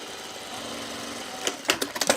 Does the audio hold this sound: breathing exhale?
no